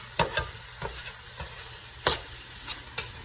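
Ground beef frying quietly in a pan, a soft sizzle broken by several sharp scraping stirs of a spatula.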